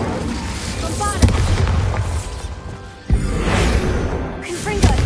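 A Bombarda spell detonates in Hogwarts Legacy with a loud booming blast, then a second heavy explosion lands a few seconds later, both over a continuous rumbling game background with a voice talking.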